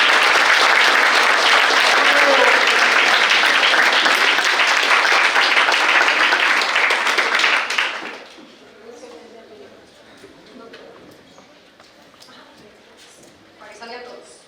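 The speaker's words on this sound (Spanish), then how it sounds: "Un aplauso para Lobacho" A crowd at a stage event applauds loudly and continuously for several seconds, then the clapping cuts off to quiet room noise with faint murmurs.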